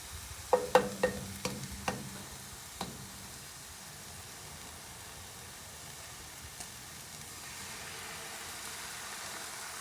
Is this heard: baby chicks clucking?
no